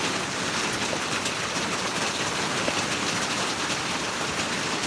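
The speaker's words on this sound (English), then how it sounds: "It started raining and the yard started flooding" Rain falls steadily outside a workshop yard, an even broadband hiss of drops hitting surfaces that holds at moderate loudness throughout, with no talking.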